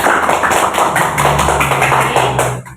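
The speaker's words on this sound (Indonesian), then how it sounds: "Ayo tepuk tangan dulu" A classroom of fifth-grade schoolchildren clap their hands together, a dense, steady patter of many close claps lasting a few seconds before stopping abruptly.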